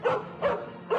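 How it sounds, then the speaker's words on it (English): A pet dog in an audiobook sound effect gives three short, close barks evenly spaced across a second, each a bright yip standing alone. "I'm sorry, that's my dog, Rocky."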